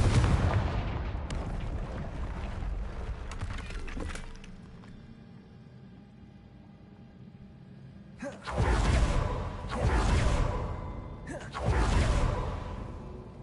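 Confringo fire spells blast in the Hogwarts Legacy video game, giving several loud booming explosions with whooshing tails, separated by a quieter stretch of low rumble.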